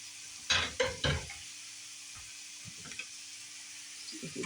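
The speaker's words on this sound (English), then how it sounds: "we're just going to keep browning our chicken here, and then I'm going to add the onions and peppers that I have sliced up" Chicken browns in a pan with sliced onions and peppers, a quiet sizzle under a few loud scraping stirs at first, then scattered soft clinks.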